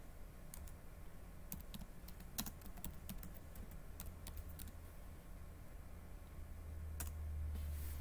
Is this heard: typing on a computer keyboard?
yes